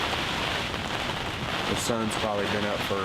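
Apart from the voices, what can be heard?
heavy rain on a hunting blind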